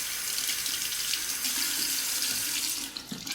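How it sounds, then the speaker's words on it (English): A tap runs steadily into a sink while a safety razor, a Razorine Flatboy, is given a slight rinse under the stream, a continuous close splashing hiss that briefly dips near the end. "a slight rinse"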